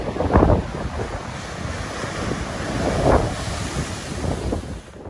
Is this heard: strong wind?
yes